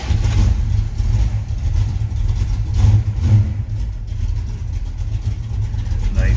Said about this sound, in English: this car fires instantly when you turn the key.